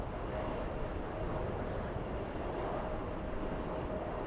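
A Delta airliner on final approach in a crosswind gives a faint, distant, steady low rumble that continues evenly throughout.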